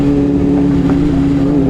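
A loud motorcycle engine drones close by at a steady, sustained pitch with a harsh buzzy tone, holding level rather than climbing, unable to rev all the way.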